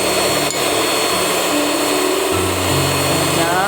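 An electric hand mixer whirs steadily as it beats egg yolks into a lapis legit batter, a loud, continuous motor drone with slight shifts in pitch and no talking.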